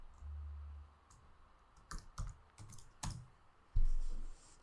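Fingers type on a computer keyboard, a short irregular burst of close, soft key clicks and taps over a quiet background, without any talk.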